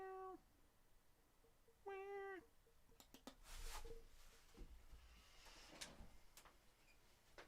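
Two distinct close meows from a pet cat named Rory, a brief one at the start and a longer one about two seconds later, followed by knocks and clatter like a drawer or door.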